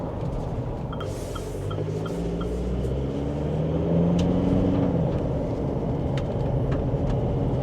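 A 2025 GWM Cannon 2.4-litre turbo-diesel 4WD travels over rough chip-seal road, giving a steady low cabin rumble of tyre and engine noise that swells slightly partway through, with no talking.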